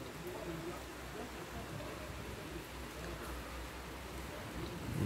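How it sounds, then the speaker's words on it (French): Steady rain from a moderate thunderstorm hisses in a broad, even wash, with no pauses from start to finish. "La pluie elle tombe bien."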